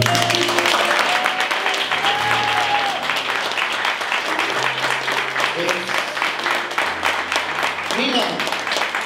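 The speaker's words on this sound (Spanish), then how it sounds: "para que le pido un aplauso bien grande" An audience at a live concert applauds steadily for a special guest, loud continuous clapping with sustained music underneath throughout.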